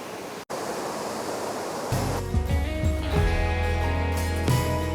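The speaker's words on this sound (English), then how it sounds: "You can feel the spraying of the waterfall." A waterfall in the Lake District rushes with a steady, close, broadband roar of falling water and spray; after about two seconds, music enters and plays over the continuing wash.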